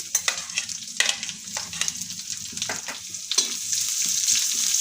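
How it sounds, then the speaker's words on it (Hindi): Thinly sliced onions sizzle and fry in a hot pan, a steady crackling hiss with occasional stirring scrapes, close and alone without any talk. "प्याज को भी मैं हल्की फ्राई कर लेती हूँ।"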